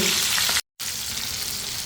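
Colombo fish pieces fry in a pan for a taro curry, a steady dense sizzle that cuts out briefly in a moment of silence before resuming just as strongly.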